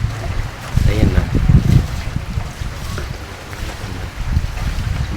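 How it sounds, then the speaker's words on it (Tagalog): Strong gusts from Typhoon Uwan rushing past outdoors, roaring and buffeting in uneven surges with rustling leaves, loud and close to the microphone. "Ayan na, ramdam na yung buyo ng hangin."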